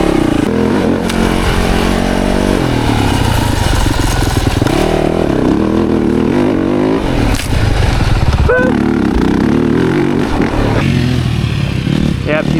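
A motorcycle engine roars steadily through a turn on a track, its pitch shifting as the bike leans and the throttle changes, loud and close, with a person talking over it.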